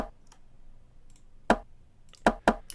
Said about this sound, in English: And then I have this rim shot.